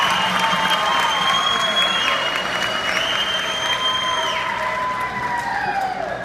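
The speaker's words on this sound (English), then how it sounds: "Give them a big round of applause." A high school crowd applauds and cheers for student singers, with steady clapping and sustained high whistling tones rising and falling over the noise.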